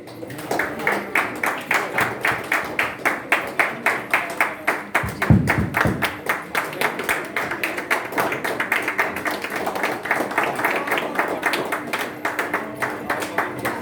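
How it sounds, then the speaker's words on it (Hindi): Loud, sustained applause from an audience at a motivational speech event in Puri, Odisha, dense rhythmic clapping running steadily throughout with a brief thump near the middle. "जी, एक बार जोरदार तालियां।"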